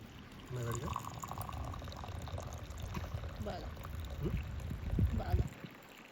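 Hot water is poured from a flask to make green tea outdoors near a natural pool in the hills, a soft continuous splashing pour lasting several seconds while a person speaks.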